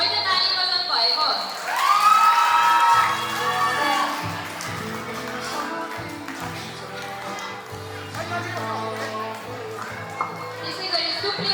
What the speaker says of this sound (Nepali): खै त ताली बजाउनु भएको?